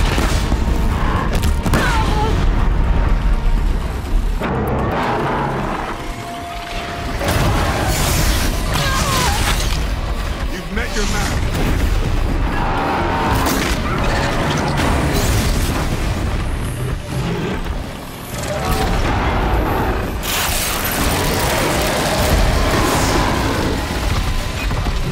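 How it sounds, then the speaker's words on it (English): Blast bombs exploding during a fight in Horizon Zero Dawn: The Frozen Wilds, a run of loud, close booms and crashing bursts over churning combat noise, with short lulls between the blasts. "Come on, blast bombs to finish it off."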